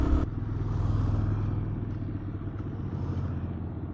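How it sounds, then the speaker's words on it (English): A group of more powerful motorcycles rides past a rider on the road, their engines rumbling and clattering steadily at moderate distance, fading slightly as they go by, with no talking. "Whoa, I got a motorcycle parade back behind me."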